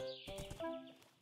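A horse in a video game lets out a brief whinny with a snort, close and moderately loud, lasting about a second.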